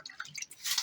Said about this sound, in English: I'm going to add some water in the bottom of the pan.